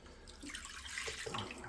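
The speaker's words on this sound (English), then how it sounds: "deciliters, 200 milliliters of water." Water poured from a tap into a cooking pot for a goulash side dish, a steady close splashing stream with a slight rising fill, no speech.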